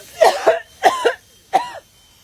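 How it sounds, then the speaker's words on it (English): A woman coughs in three bursts, two double coughs then a single one, close and clear against quiet. "that's why that lady was coughing."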